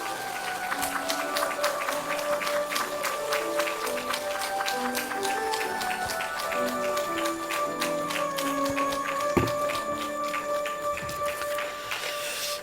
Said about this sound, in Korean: 우리 큰 박수로 우리 환영하십시다.